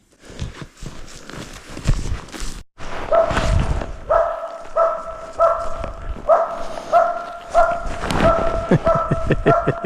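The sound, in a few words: dog barking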